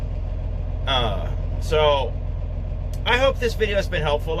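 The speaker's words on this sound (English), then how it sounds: "I apologize for the hum. The truck's running." A parked truck idles with a low, steady engine hum on a chilly day, running continuously beneath a man's nearby speech.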